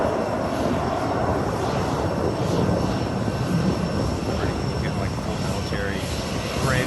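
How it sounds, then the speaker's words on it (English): Military jets fly over during a welcome ceremony in the UAE, with a loud, continuous engine roar that holds steady throughout, while a voice talks over it. "Let's hear the engines roar."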